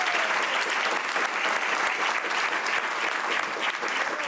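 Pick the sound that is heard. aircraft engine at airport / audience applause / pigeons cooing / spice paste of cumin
audience applause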